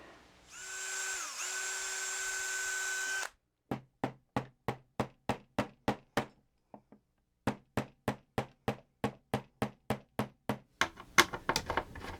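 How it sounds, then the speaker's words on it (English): A power drill drilling out a part of a TOMY Space Turbo toy whirs steadily for about three seconds, then stops; a long series of sharp, evenly spaced knocks or bursts follows. "I still have to drill this out"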